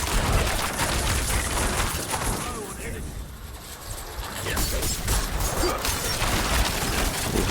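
A rogue's ranged barrage attacks in Diablo 4 on Torment difficulty: a dense, continuous storm of rapid shots and impacts with hardly a gap, easing briefly midway before swelling again.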